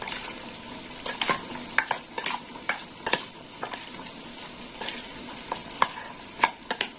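Raw prawns being mixed with salt and turmeric using a spoon, giving a run of irregular, fairly close clicks and light scrapes of the spoon against the dish over steady quiet background noise.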